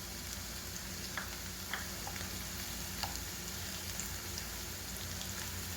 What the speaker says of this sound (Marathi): ते परतून घेऊ चांगलं।